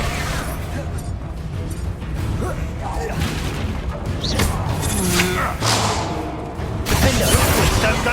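Spell blasts from Expulso and other combat spells in the game Hogwarts Legacy merge into a dense, loud, continuous rumble of booms and crashes, with a voice heard over the fighting.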